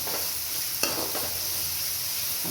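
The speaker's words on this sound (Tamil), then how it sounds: "அது கொஞ்சம் பச்சை வாசனை போகிற வரைக்கும் வதங்கட்டும்." Ginger garlic paste sautés in a pan for a Tirunelveli-style coconut milk crab gravy. A close, steady sizzle fills the moment, with one brief stir or scrape partway through.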